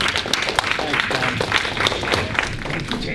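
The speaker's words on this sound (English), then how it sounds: "So let's give a nice applause to James Maskell." An audience claps for speaker James Maskell at a talk on functional medicine practice. The moderate, scattered applause runs under some talking and murmuring for a few seconds.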